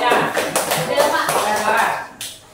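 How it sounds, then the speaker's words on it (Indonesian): Students in a classroom clapping together after a group discussion, a burst of close, uneven hand claps that fades toward the end, with voices mixed in beneath. "Ya udah, tepuk tangan dulu semuanya."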